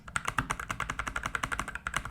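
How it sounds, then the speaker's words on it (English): Rapid, steady clacking of keys on a Satechi SM1 Bluetooth mechanical keyboard, close up, a quick even stream of crisp taps with no talking. "if you love kind of the tactile feel of typing on a mechanical keyboard"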